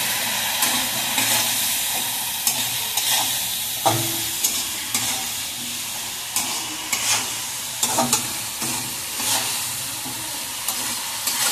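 Mixed vegetables with potato sauté in a pan for Bengali shukto, a loud steady sizzle and hiss with frequent spatula scrapes and stirring knocks, close to the pan.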